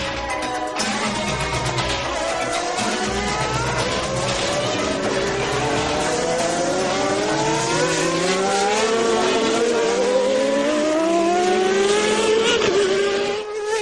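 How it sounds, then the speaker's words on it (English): Formula One cars racing, a Ferrari and McLaren among them, with a loud high engine whine rising steadily in pitch as a car accelerates over a crest, other engines layered underneath. "As the Ferrari comes over the skyline, and Ayrton Senna goes through and laps the"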